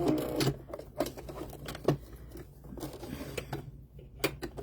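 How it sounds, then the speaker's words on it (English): Sewing machine backstitching doll hair, short close bursts of needle chatter separated by brief pauses, quiet and without talk. "So I'm going to backstitch."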